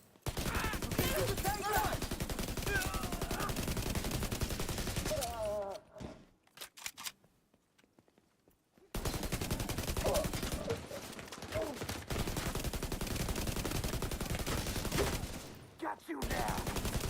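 Rapid gunfire in a shooter video game rattles loudly and almost without pause, dropping out for a few seconds of near silence midway before the bursts resume at full strength.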